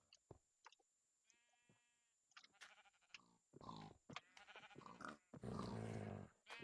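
Sheep from a Minecraft sheep spawner bleat in several wavering calls, overlapping and growing louder toward the end, mixed with soft clicks and game sounds.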